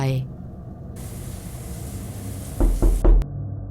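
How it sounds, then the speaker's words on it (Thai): Knocking on a door as a sound effect in a Thai ghost story: after a stretch of quiet hiss, a short burst of sharp, loud knocks lands near the end. "กลับมีเสียงเคาะประตูดังขึ้นสองครั้ง"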